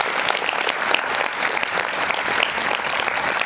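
A large seated crowd of students at a student camp claps loudly and steadily for a few seconds, a dense, even applause with no talk over it.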